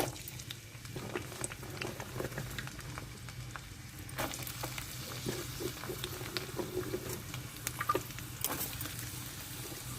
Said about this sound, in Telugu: ఆయిల్ వేడవ్వింది పచ్చిమిర్చి వేసుకుందాము అలాగే ఉల్లిపాయలు